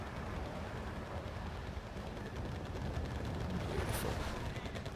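Gunfire aimed at BTR armored vehicles in the wartime strategy game Wargame Red Dragon, assaulting Vladivostok, a faint distant crackle of rapid shots over a low battlefield rumble, with one brief sharp burst.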